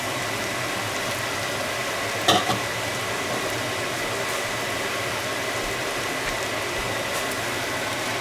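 Potatoes fry in a pan for an egg, potato and bacon breakfast bowl, making a steady, dense sizzle that holds even throughout, with one brief clink of a utensil early on.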